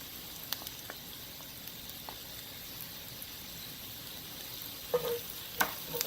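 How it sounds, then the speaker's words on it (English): Garlic sizzling in a pan for chicken Alfredo, a faint steady hiss with a few light clicks and a brief clatter near the end. "I'm going to go ahead and put my garlic in."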